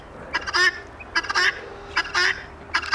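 Guinea fowl call in four harsh, rhythmic bursts of rapid cackling chatter, fairly close and loud, with no talking.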